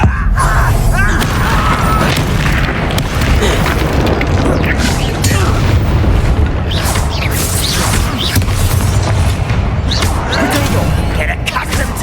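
A fiery Confringo spell blasts in the Hogwarts Legacy video game, with loud booming explosions and crashing impacts layered over constant battle noise and a speaking voice throughout.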